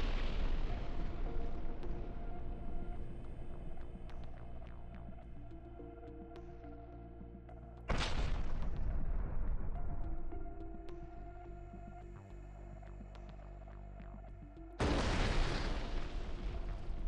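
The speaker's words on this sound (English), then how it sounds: "The Russian Armed Forces artillery struck a location where Ukrainian Armed Forces soldiers had gathered in the Sumy region" Russian artillery strikes explode in the Sumy region, three heavy booms roughly seven seconds apart, each a sudden loud blast followed by a long rumbling decay under a steady low hum.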